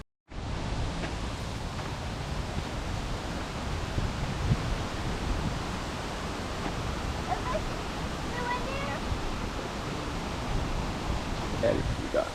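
A small creek flowing steadily outdoors, a soft continuous wash of running water with faint wind, no voices.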